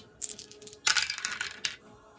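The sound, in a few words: dice rolling in a board game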